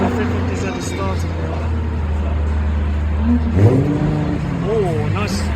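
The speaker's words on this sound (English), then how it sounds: "That 350Z is starting." A Nissan 350Z at a Donington Park track day idles with a low, steady engine drone, then blips into a short rising rev, while people talk nearby throughout.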